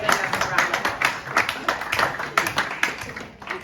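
A conference audience at a European digital infrastructure industry event breaks into a steady round of applause, many hands clapping together in a dense, moderately loud wash with no speech over it.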